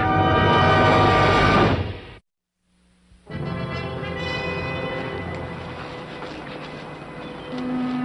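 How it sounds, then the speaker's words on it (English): A train rumbles past nearby with a loud, broad roar that cuts out briefly and then returns, continuing steadily with a faint horn-like tone near the end. "I think I heard a train"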